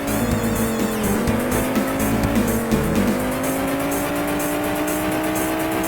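Cars drifting and slamming into opponents in the Amiga racing game ATR: loud buzzing engine tones rise steadily while tires squeal and skid in quick bursts, with no talk.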